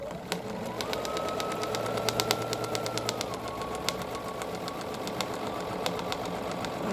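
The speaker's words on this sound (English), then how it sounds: "I do have a Bernina Q24 long arm machine" Bernina long arm machine quilting curved crosshatching with a round ruler, a steady quiet mechanical hum with fine repeated ticks throughout, heard alone.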